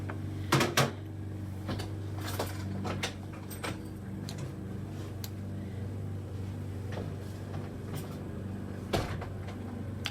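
A locked door in a shed being tried and rattled, several sharp clacks and knocks of the handle and frame scattered across ten seconds, close by, with a low background hum and no voices.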